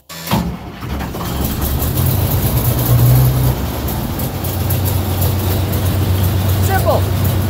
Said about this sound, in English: Now, turn the key to this tractor, it doesn't have glow plugs,